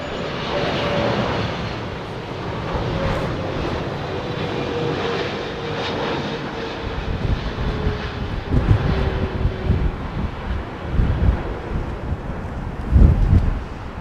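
An Airbus Beluga XL with Trent 7000 engines lands at Heathrow in a blustery slight crosswind, its steady jet roar mixed with gusty wind buffeting on the microphone and swelling louder toward the end.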